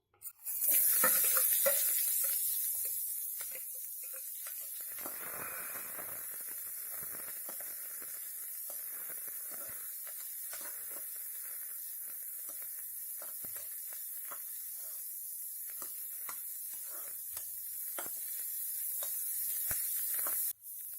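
Onions frying in oil in a pan for white sauce pasta give a steady, close sizzling hiss that holds continuously throughout with faint scattered crackles.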